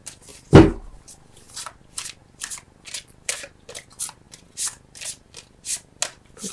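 Tarot cards are shuffled close up, one sharp slap followed by a steady rhythm of brief riffling and sliding bursts, roughly two per second, with no talking.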